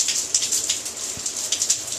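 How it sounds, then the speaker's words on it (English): Steady rain falls close by, a dense patter of drops hitting a surface with faint irregular splashes, heard alone with no voices. "What do you think of the rain?"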